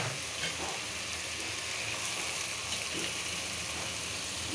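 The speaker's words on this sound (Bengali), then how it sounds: "ইলিশ মাছটা দিয়ে দিচ্ছি।" Hilsa fish going into a pan of fried spices brings on a steady, dense sizzle that crackles evenly throughout with no pauses and no voices.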